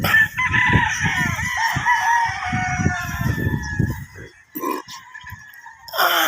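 Roosters at a gamefarm crowing repeatedly in the morning, several birds overlapping with some near and some farther off, loud and continuous with clucking between calls.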